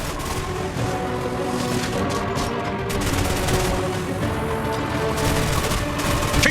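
Rapid gunfire in the Destiny Rising game, dense bursts of shots and booms repeating continuously at close range without pause.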